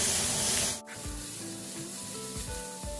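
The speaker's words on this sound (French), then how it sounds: "On met nos oignons, on les caramélise un peu." Onions hit a hot pan to caramelize, starting with a loud hiss that cuts off abruptly, then settling into a quieter sizzle with occasional soft thumps and scraping.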